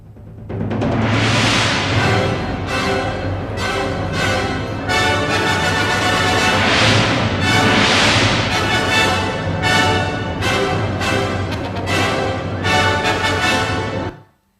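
A dense orchestral passage from Magnus Lindberg's music plays continuously at full volume, with repeated swelling surges and sharp accents, then cuts off abruptly at the end.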